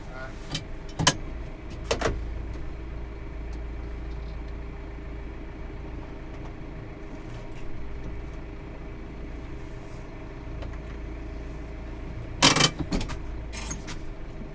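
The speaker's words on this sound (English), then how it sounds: "So the pump is just getting going." A slurry pump on a Spreadwise dribble bar runs up on a farm, giving a steady low mechanical hum throughout, with a few sharp clanks near the start and a brief burst of clatter toward the end.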